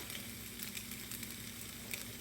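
Steaks sizzle steadily on a George Foreman grill, a close, even hiss with small pops and crackles throughout and no voices.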